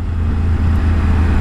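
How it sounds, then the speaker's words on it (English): Steady, loud roar of motor traffic on a busy road in Japan, continuous low engine rumble with no break, heard close by and filling the whole stretch. "Lovely road this, but it's a little bit busy with traffic."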